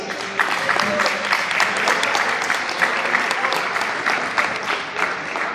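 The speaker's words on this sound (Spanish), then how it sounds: "quiero que lo reciban con un fuerte aplauso a la primera" A live concert audience applauds a guitarist with steady, dense clapping from a crowd that continues evenly for several seconds, with faint voices mixed in.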